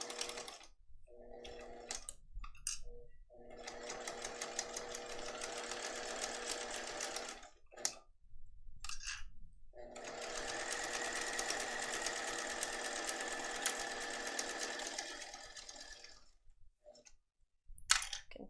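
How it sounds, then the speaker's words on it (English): A sewing machine stitches along a seam line on a confetti case project, running in several steady bursts separated by brief pauses and clicks, close and fairly quiet with no talking. "I'm going to sew right on that stitching line again."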